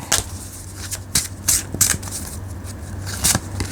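Tarot cards are shuffled by hand in a quiet room, a run of sharp, close riffling bursts and soft slides repeating irregularly.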